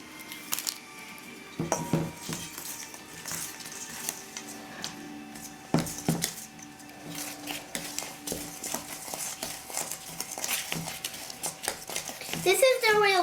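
Scraping and clinking of a utensil against a bowl while ingredients are mixed for home cooking, irregular taps and clatters close by, with people talking faintly in the background.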